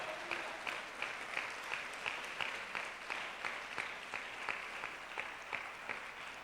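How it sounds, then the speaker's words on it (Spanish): A church congregation claps in a steady, rhythmic beat, many hands together in a reverberant room, with no talking. "Vamos, denle ese aplauso al Señor."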